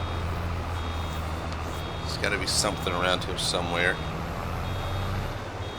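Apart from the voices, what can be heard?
truck reversing beeps in video game Farming Simulator 22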